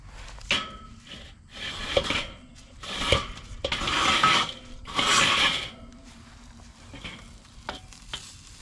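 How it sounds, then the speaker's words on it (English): Metal grill grate spun around over a live fire while a tomahawk steak is seared, a series of close scraping, rattling metal sounds in several bursts, mixed with sizzle and crackle. "I'm gonna spin the grate around, do a cold grate."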